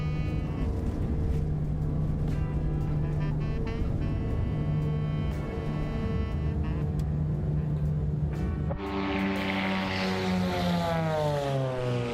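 Black Square Grand Duke twin-propeller plane in MSFS 2024, a steady, loud droning engine and propeller hum throughout, with the pitch shifting and rising partway through as power changes.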